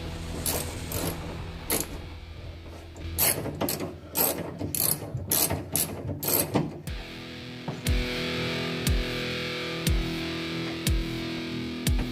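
A 9/16 ratchet working steering column bolts on a 1967 Chevrolet Impala four-door Sport Hardtop, with rapid clicking pawl bursts up close, then a steadier mechanical hum punctuated by single sharp clicks.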